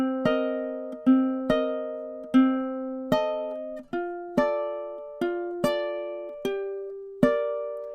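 Solo ukulele playing two measures of a tune, about a dozen plucked notes in the tune's lilting rhythm, each ringing briefly before the next, close and clean with no voices.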